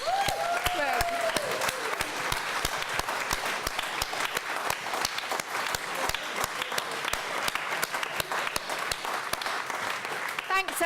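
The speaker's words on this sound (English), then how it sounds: "let's just applaud everyone that contributed" At a poetry competition awards ceremony, a small gathering applauds steadily, the sharp individual claps clearly separate and sustained at an even, moderate level from start to end.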